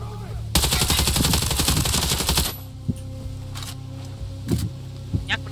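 Automatic gunfire in the video game Ghost Recon Breakpoint, a loud dense rattling burst lasting about two seconds, then a few scattered single shots and thumps further off.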